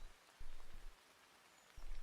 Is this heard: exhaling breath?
no